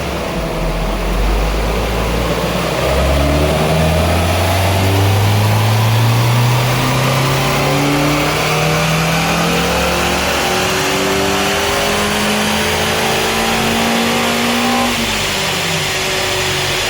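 Citroen Saxo VTR 16v engine pulling hard on a rolling-road dyno with its air filter fitted, a loud, close roar that climbs steadily in pitch through the revs before easing off near the end.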